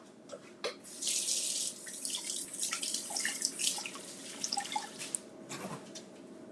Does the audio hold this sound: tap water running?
yes